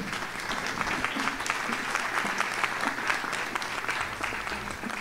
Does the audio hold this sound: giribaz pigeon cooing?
no